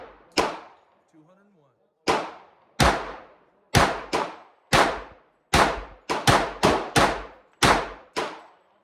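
Eight-round magazine fired from a Tisas 1911 budget pistol at steel targets, a sharp crack each followed by a ringing clang, spaced unevenly with some quick pairs, loud and close with no talk.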